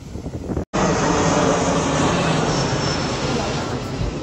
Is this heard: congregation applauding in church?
no